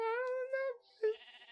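A Minecraft sheep gives two short, clear bleats, close and alone, the first a drawn-out wavering note and the second a quicker call, in the Xbox One edition of the game.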